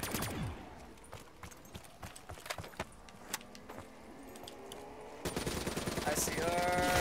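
Gunfire in the Call of Duty zombies map Shadows of Evil, including an AK-style rifle, scattered sharp shots through the clip, then a louder sustained burst near the end amid game noise.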